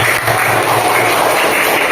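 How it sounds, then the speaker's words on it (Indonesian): Applause from a group of students in an Islamic religious education classroom, a steady dense patter of clapping filling the room for two seconds with no talk over it. "tepuk untuk kita semua"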